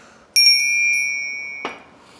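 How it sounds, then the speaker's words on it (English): A shop's service bell beside the cash register gets struck, giving one bright metallic ding with a quick rattling bounce, then ringing out and slowly fading before a soft knock near the end. "Here's the bell."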